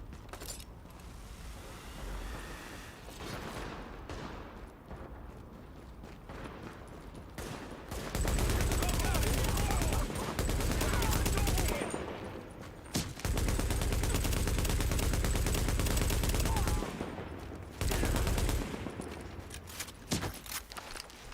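Heavy sustained gunfire in The Division, long loud automatic bursts with booming low end separated by brief lulls, preceded by quieter mechanical clatter and movement.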